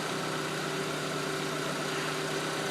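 A freshly rebuilt car engine idles steadily during its break-in run, a constant close hum with a faint tonal drone and no other sounds or talk.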